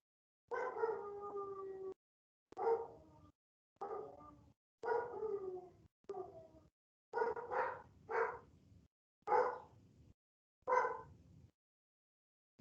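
A pet dog at home, stirred by passing dogs on the street, lets out a series of drawn-out howling barks, about nine separate calls with short silences between them, heard at moderate distance.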